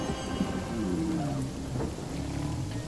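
Steady rainfall with a low rumble of thunder rolling beneath it, continuous and fairly loud throughout, in the fantasy role-playing game Divinity: Original Sin during turn-based combat.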